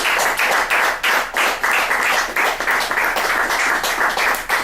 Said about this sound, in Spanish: pido un aplauso también para el compañero de Chaco